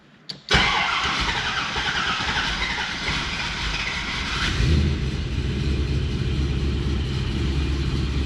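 A Vortech-supercharged LS1 V8 running on E85 cranks briefly, catches and fires, then settles into a loud, steady rumbling idle that swells slightly partway through, heard up close with no talking.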